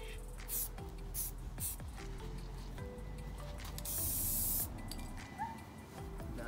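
Spray paint hissing from a nozzle as another coat goes onto a scooter, in steady bursts of varying length with a louder sustained pass near the end, under faint background noise.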